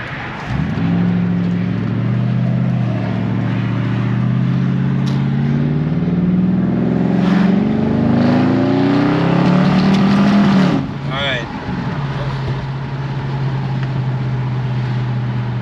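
An Audi RS6 is driven around the block, its engine droning steadily and rising and falling with throttle, heard from on or near the car the whole time, with a sharper shift in tone near the end.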